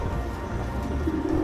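An Oriental Frill pigeon coos in a steady, low, soft murmur that runs through the whole moment, close and continuous, with no voices.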